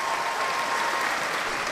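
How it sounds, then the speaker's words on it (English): Audience applause from a crowd, steady and dense clapping throughout, fairly close and loud with no pauses. "That's enough applause."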